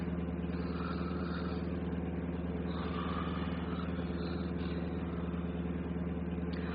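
A bus motor runs in a steady, even drone with a low hum and no changes in pitch, heard from inside the vehicle, with no one speaking.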